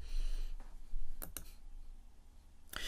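Computer keyboard clicks while working in a command-line terminal, a few sparse, sharp key taps spread over a low background hum; no talking.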